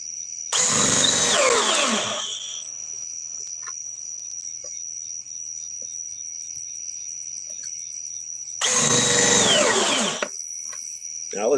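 A cordless M12 power drill whirs loudly in two bursts of about two seconds each, separated by a steady high-pitched hum from nearby equipment.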